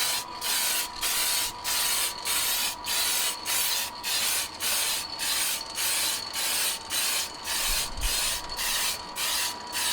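Spray can hissing in rapid regular bursts while paint goes onto a DIY headless guitar body from an AliExpress kit. The bursts are short, even and close, repeating steadily with brief gaps between them.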